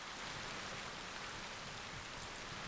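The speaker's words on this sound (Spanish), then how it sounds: "Llueve mucho" Heavy rain pours down in a steady, even hiss of drops on surfaces, faint and distant-sounding, continuing unbroken with no voices.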